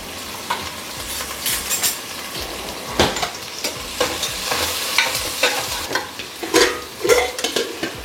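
Chopped medium and large onions fry in a hot pan for a non-veg lunch, a constant sizzle broken by repeated scraping stirs of a spatula against the metal, close and fairly loud with no talking.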